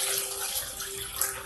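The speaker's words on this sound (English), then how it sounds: "I add my water. This is distilled water." Distilled water pouring into a blender for carrot juicing, a steady close splashing stream with no pauses and no talk.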